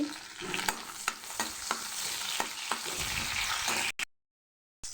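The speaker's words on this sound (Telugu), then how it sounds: "అది వేడెక్కిన తర్వాత ఒక 4 పచ్చిమిరపకాయలు వేసుకొని వేయించుకోండి" Four green chillies fry in hot oil for fried rice, giving a continuous crackling sizzle broken by sharp utensil stirs and scrapes at an irregular rhythm, close and fairly loud, before cutting to silence near the end.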